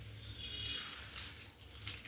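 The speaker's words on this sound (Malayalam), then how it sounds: "ചക്കക്കുരുവിൻ്റെ ആ താളിച്ചതിലേക്ക് കുറച്ച് തിളപ്പിച്ചാറിയ വെള്ളം" Boiled and cooled water is poured into a seasoned jackfruit seed mixture in a home kitchen, a soft, brief, faint trickling splash heard on its own.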